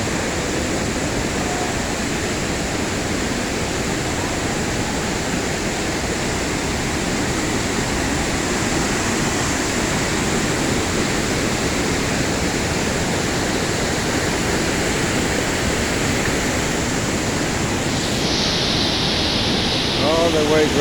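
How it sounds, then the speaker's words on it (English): Nauyaca waterfall in a Costa Rican rainforest roars as a steady, loud, dense rush of falling water, continuous throughout with no break. "Look at the way the waterfall go"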